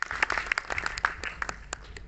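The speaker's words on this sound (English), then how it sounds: "Huge round of applause." Festival audience in Goa applauding casting directors, a brief burst of scattered clapping heard from a moderate distance at a fairly quiet level.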